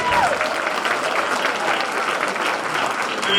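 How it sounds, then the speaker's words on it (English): Audience at a St Patrick's Day celebration in Charlestown gives a big round of applause, dense steady clapping filling the whole stretch with a few cheers, loud and close throughout. "give him a great big round of applause."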